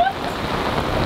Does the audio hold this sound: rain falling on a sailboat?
yes